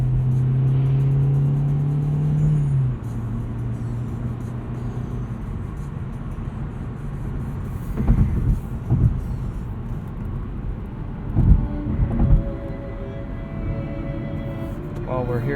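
A 2020 Hyundai Elantra Limited drives along a road, its engine a steady low hum with tire and wind rumble inside the cabin, swelling briefly as it accelerates; a voice speaks over the drive.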